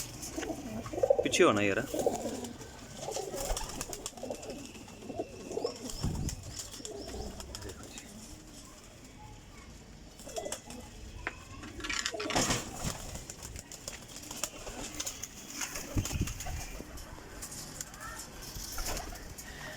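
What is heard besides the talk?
Teddy golden flying pigeons cooing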